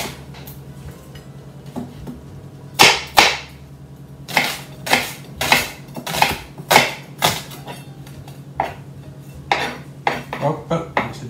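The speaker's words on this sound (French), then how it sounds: "on va découper l'oignon." A knife chops an onion on a cutting board in a home kitchen with a series of sharp, crisp knocks, sparse at first, then quicker and more regular, close and clear.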